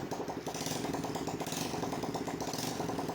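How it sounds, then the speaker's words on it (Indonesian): Honda Spacy scooter engine running with its exhaust removed after a leaking-valve smoke fault, a loud, steady rattling putter with rapid mechanical ticking throughout, close and alone. "Dan motor pun berhasil hidup dengan normal dia."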